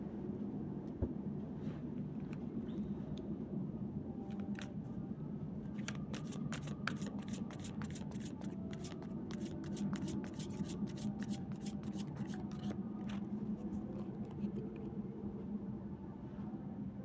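Tarot cards being shuffled by hand, a quiet riffle of rapid crisp flicks clustered through the middle, over faint background hum.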